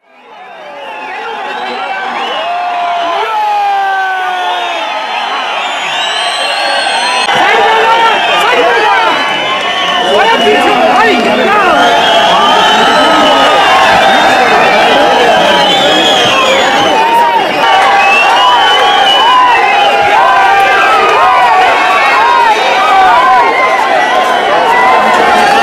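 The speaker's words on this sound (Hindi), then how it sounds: "इस रेसलिंग इवेंट को देखने के लिए पडल मैदान में लोगों की काफी भीड़ उमड़ी" A large crowd packed into Paddal ground in Mandi for an international wrestling event, cheering and shouting loudly, rising from a quick swell into sustained, dense roaring with whistles and excited yells.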